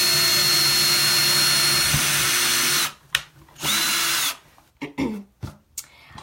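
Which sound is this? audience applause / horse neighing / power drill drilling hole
power drill drilling hole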